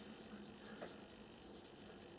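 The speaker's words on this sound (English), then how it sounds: "I'm going to use a broader but finer sanding stick now, and this is all we do, we just work down through the grits" A fine sanding stick rubs steadily over a model aircraft part, a soft, even scratching stroke repeated back and forth, close but quiet and with no talk.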